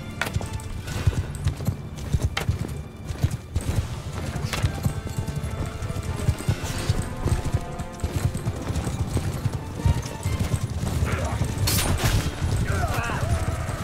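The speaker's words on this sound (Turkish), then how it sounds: "atlar da geliyor yavaştan" Horses' hooves clip-clopping in Mount & Blade 2 Bannerlord: a steady, dense patter of many hooves on the battlefield with occasional neighs and scattered gunfire-like cracks, continuous and close, with someone talking over it.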